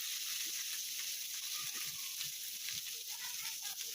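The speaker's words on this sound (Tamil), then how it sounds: "கடுகு நல்லா பொரிஞ்சு வருது, சத்தம் வருது" Mustard seeds splutter in hot oil in a pan, a steady broadband sizzle with scattered small pops and crackles throughout, close and moderately loud, with no voices.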